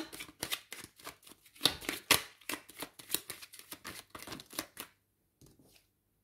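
Tarot cards handled and laid down in quick, crisp flicks and slaps, a dense run of close, sharp snaps that stops abruptly, followed by a few faint soft touches.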